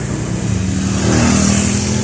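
A motorcycle passes close by on a street where a tricycle is also nearby, its engine rumbling steadily and swelling slightly as it goes past.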